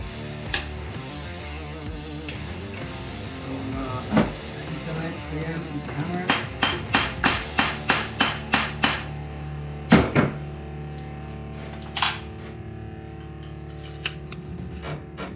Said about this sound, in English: using the hammer to shock the stud